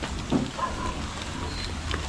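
Rain falls steadily outdoors as a dense, even hiss with faint scattered patters, continuous throughout and fairly close.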